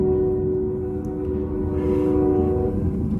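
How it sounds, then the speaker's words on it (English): A train rolls slowly past during a severe thunderstorm in southwest Michigan, giving a steady low rumble under a sustained horn-like tone that holds throughout. "That train's moving a little slow."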